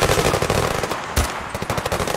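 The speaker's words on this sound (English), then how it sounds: "I need to shoot with the laser because I can't see through my sight." An automatic weapon in the shooter game Zero Caliber fires a rapid, loud, close burst of shots that runs almost without a break for a couple of seconds.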